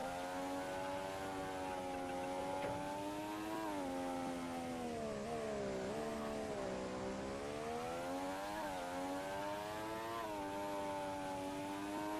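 In the ION Formula Racing game, a race car's engine whines in a steady, sustained tone that rises and falls gently with speed, loud and constant with no voices.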